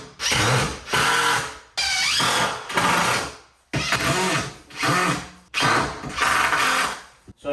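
A power drill drives particle board screws into IKEA kitchen cabinets in six or seven close, loud whirring bursts with short pauses, the motor pitch shifting as each screw seats.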